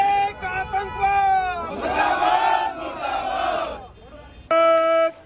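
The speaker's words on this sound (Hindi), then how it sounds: "बड़े पैमाने पर लोगों ने इस्लामिक कट्टरता को मुर्दाबाद कहते हुए उसके पुतले का दहन किया।" A large protest crowd in Manesar chants slogans in unison, loud and close. Rhythmic shouted phrases rise and fall, with a brief lull before a final strong burst of chanting.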